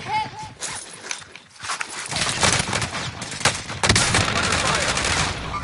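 Video game gunfire with light machine gun bursts and rapid fusillades, loud and dense through most of the stretch, starting sparser and building into sustained volleys with a few heavier sharp reports.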